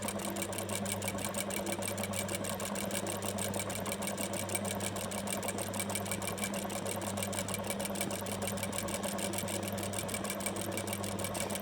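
An embroidery sewing machine runs continuously with a fast, even mechanical rhythm while embroidering a pillow, close by and steady for the whole stretch.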